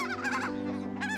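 Geese honk in a mixed farm enclosure beside a château, where wallabies share the grounds, with a few close, nasal calls rising over steady background noise.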